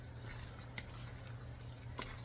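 Spatula stirring creamy salted egg shrimp in a frying pan, soft scraping and a couple of light metal clinks over a steady low sizzle.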